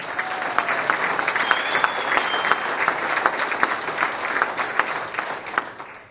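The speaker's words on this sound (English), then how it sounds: "big round of applause and thank you" An audience at a Second Amendment rally in Idaho applauds, a sustained, fairly close crackle of many hands clapping, with scattered louder individual claps and faint crowd noise.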